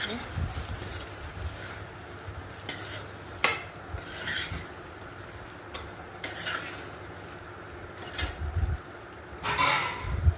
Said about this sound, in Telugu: ఒక ఐదు ఎల్లిపాయలు దంచి వేసుకోండి కలుపుకున్నాను